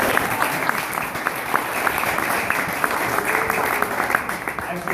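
Crowd applause at a speech, many hands clapping in a continuous even roar with a few sharper individual claps standing out, sustained for the whole stretch with no one speaking.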